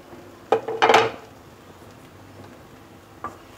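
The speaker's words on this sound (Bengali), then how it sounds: "এখন ঢাকনাটা তুলে দেখছি।" A metal lid lifted off a cooking pot of simmering kochu lati and salted hilsa, a short clatter and rattle of metal on metal, then a single faint clink in a quiet room.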